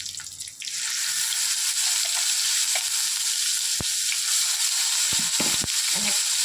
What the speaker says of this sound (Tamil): அன்னாச்சி பூ, கொஞ்சம் சோம்பு எல்லாம் போட்டு தாளிச்சிக்கணும்.